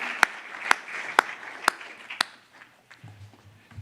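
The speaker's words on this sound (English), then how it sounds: "So big round of applause for Scott," At a Humans to the Moon and Mars summit, a few sharp, evenly spaced claps ring out in a large hall after a panel discussion, then fade into softer scattered clapping and low room noise.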